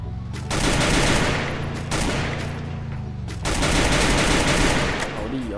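Gunfire in the Free Fire battle royale game comes as two long, loud bursts of rapid automatic shots with a brief pause between them. The shots are close and dense, with no speech over them.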